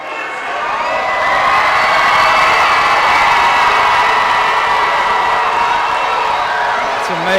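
A boxing arena crowd cheers and whoops loudly for a fighter, swelling over the first second into a sustained, roaring wall of shouting and clapping that barely eases before the end.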